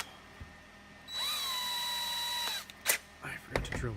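A power drill whines for about a second and a half at a steady pitch, drilling a hole in a plastic X-Wing Miniatures Jumpmaster 5000 model, then stops, followed by brief clattering and handling noises.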